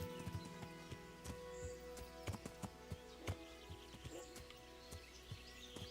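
Horse hooves clip-clop at a walk in the medieval video game Kingdom Come: Deliverance, a string of distinct, fairly close hoof strikes over a quiet backdrop with faint birdsong.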